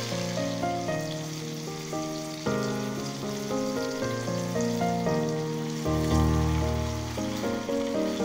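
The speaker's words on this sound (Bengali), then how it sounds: "মাংসের পিসগুলি আমরা হালকা লাল করে, সামান্য হালকা লাল করে ভেজে নেব।" Chicken pieces for Saudi kabsa are shallow-fried in a pan until lightly browned, giving a steady, rain-like sizzle that sits beneath louder background music.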